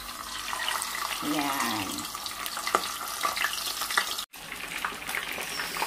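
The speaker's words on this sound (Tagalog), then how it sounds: "Ayan na, mainit na yung ating mantika, kaya ilagay na natin yung ating isda." Tilapia dropped into hot cooking oil for escabeche, a loud steady sizzle and crackle of frying throughout, with a brief speaking voice over it.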